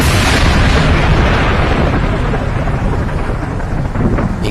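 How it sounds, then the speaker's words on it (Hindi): A loud thunder clap, used as a sound effect in a horror story set outside a haunted mansion, booms and rumbles heavily throughout, a dense, sustained roar with no voices. "अचानक आसमान में तेज बिजली कड़कती है।"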